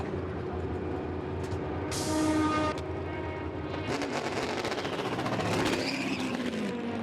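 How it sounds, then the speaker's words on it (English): A race car at the 2020 Rolex 24 at Daytona pulls out of the pit lane, its engine rising from a steady tone to a sharp, loud burst of revving, with a brief high whine partway through. "Nothing like hearing a car move out of the pit lane."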